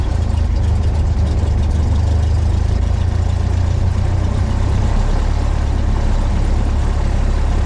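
Light aircraft piston engine throttled back to 600–800 RPM on a hot, windy day, running as a loud, steady, close low rumble with a slight drop in tone near the end.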